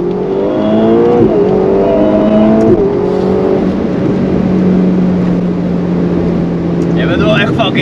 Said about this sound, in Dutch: Dus gaan we ook even wat gas geven.